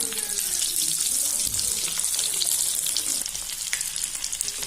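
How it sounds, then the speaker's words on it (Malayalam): Stuffed egg bonda frying in hot oil, a steady bright sizzle and crackle that runs continuously throughout, close and fairly loud, with no voices. "ഇനി അടുത്ത ബാച്ചും ഇതേപോലെ പൊരിച്ചെടുക്കാം"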